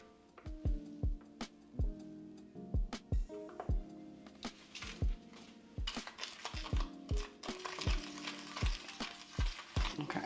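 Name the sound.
mixing hair bleach with 20 volume developer in a bowl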